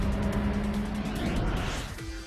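A car driven fast, its engine and road noise roaring continuously close by, with the engine note rising and shifting as it accelerates, then dropping in tone near the end.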